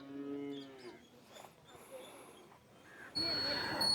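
An HF hybrid cow moos once, low and close, at an open-air farm cattle shed, followed by quieter farmyard noise and a louder hissing background near the end.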